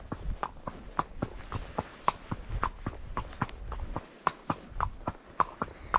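Horse walking under a rider along a hedged lane, hooves clip-clopping in a steady, even rhythm, close and clear, with no talking.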